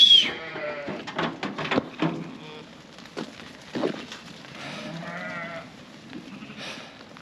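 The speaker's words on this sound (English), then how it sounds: "Oh my god, the sheep have got out." Sheep loose from their field bleat in a run of harmonic cries across a farmyard during weaning, some near and loud, others farther off, with brief noises and movement between the calls.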